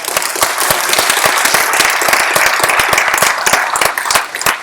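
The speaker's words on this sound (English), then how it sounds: "people were clapping here" An audience at a political live-streamed event claps steadily, with dense close handclaps sustained for several seconds before thinning out at the end.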